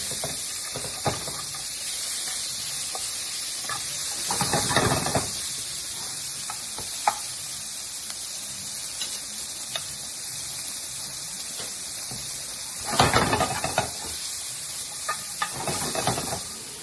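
A hot pan sizzles steadily with a bright hiss while browned jerk bits are scraped from the bottom. A few louder bursts of scraping and stirring rise above the constant frying noise.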